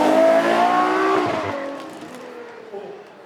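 A Ferrari V12 supercar screams past on track at a supercar weekend event, loud and rising at first, then fading into the distance as it pulls away.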